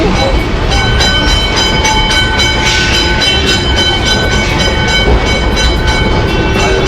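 A Kolkata tram rolls along steadily, its rumble continuous and fairly loud, with faint rhythmic clatter and high metallic ringing tones over the noise throughout.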